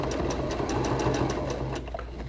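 Sewing machine running close up while top stitching a fabric face mask, a rapid even mechanical clatter of needle strokes that slows and stops near the end.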